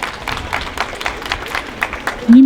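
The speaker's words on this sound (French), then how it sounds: "Allez, on l'applaudit là." Scattered applause from an audience at an animal show honoring a cat, with light uneven clapping under a hot open-air shelter, cut off abruptly by a louder sound at the end.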